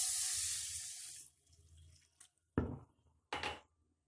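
Water poured from a cup into a pan to make sugar syrup for semolina gulab jamun, a steady close splashing pour for about a second, then two short, sharp splashes or clatters with quiet between them.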